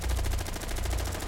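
Rapid automatic gunfire in Rainbow Six Siege rattles in a quick, steady burst of repeated shots, close and continuous for about a second.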